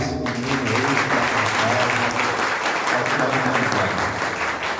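Audience applause at a spiritual seminar, a dense, loud, sustained clapping from a crowd filling the whole stretch without a break.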